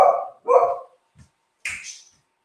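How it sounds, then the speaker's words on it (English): Puppies in a home kitchen give two quick yapping barks, a tiny faint yip, then a higher whining bark, all close and loud against silence. "So excuse the puppies."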